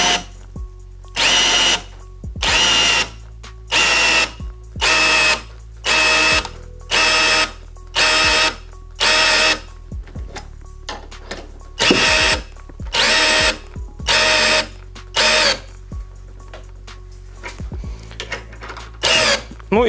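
A Vitals Professional AU 1860Pbt BS SmartLine cordless drill-driver drills in a dozen loud, close bursts of about a second each, with short quiet gaps between them and faint clicks.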